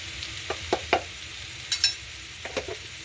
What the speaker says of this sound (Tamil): சேர்த்துட்டு ஒருக்கா நல்ல வடிவாக கிளறி விடுவோம்.